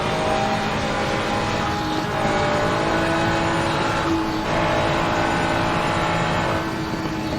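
GT3 race cars, including a Ferrari, a Porsche and an Audi, lapping Spa in wet conditions in a racing video game, with continuous loud engine drone, rising and falling revs as cars pass, and no talk.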